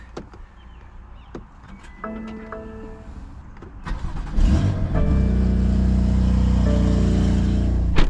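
Tuned BMW F82 M4 driving through city streets: quiet cabin hum at first with small knocks, then the engine rises loudly and settles into a steady, strong drone.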